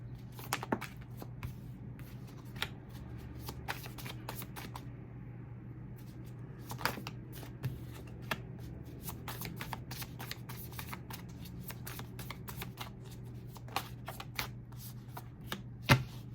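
Tarot cards being shuffled up close, a steady run of soft riffling flicks and taps over a constant low hum, with a few louder snaps toward the end.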